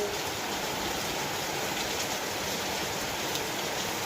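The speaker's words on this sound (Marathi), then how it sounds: "तर मस्त मस्तपैकी असा पाऊस चाललाय" Steady rain falls as an even, hissing wash of sound, constant and moderately loud, with no voices or breaks.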